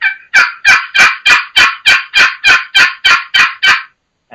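A single-sided wooden box turkey call plays a steady run of about eleven loud, close, raspy yelps in an even rhythm, with no talking over it.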